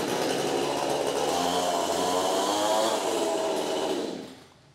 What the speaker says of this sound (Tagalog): At punta naman po tayo ngayon sa ating chainsaw Oxford, Boss Jade Nguyen ng Quezon, Candelaria.